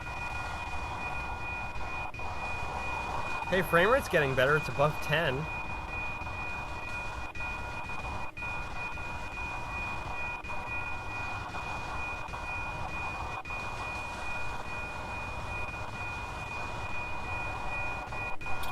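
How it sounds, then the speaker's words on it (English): Freight train passing in the Train Sim World video game, a steady rolling rumble of wagons with periodic rail clicks, while someone briefly speaks early on. "we're gonna watch the whole train pass this time."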